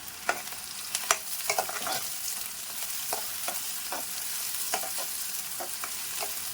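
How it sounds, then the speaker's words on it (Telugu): Onions fry in a pan for yogurt chicken, a continuous sizzle under repeated scraping stirs and spoon clicks at an irregular, unhurried rhythm, with no talking. "ఇది రెడ్డిష్గా వచ్చేంత వరకు మనం కలుపుదామండి"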